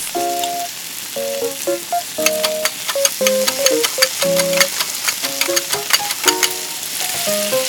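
Tiny Korean snails fry crisply in a pan with teriyaki sauce, crackling and popping in bursts beneath a melody of plucked, bright musical notes.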